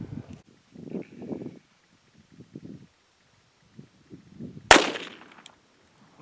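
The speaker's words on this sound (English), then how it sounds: "Getting ready to shoot the CCI Stinger. It's a 32 grain bullet from the Ruger LCP II." A single sharp, loud report from a Ruger LCP II pistol firing a 32-grain CCI Stinger .22 LR round, standing out clearly above softer voices murmuring before and after it.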